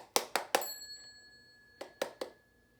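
A broken alarm clock ringing weakly, three quick metallic dings followed by a lingering tone, a pause, then three more dings, faint and close with no talking.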